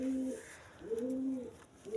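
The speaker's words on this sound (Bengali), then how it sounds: "আমাদের এখানে একটাই রাজশাহী গিরিবাজ কবুতর আছে, যেটা কিনা এই যে এই কবুতরটা।" A Rajshahi Giribaz pigeon cooing up close: low, throaty, drawn-out coos repeated in a slow rhythm, with faint room noise and no talking.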